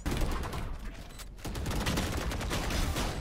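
Rapid gunfire in the tactical shooter Valorant, dense overlapping shots in a close, loud burst, a brief lull, then a second sustained volley.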